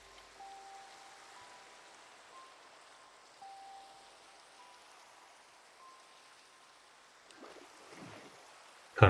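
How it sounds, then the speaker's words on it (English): Rain in the video game Minecraft, a faint, steady hiss of falling rain with soft patter, quiet and continuous, ending in a brief louder rustle. "Okay, but just regular rain, I can deal with that."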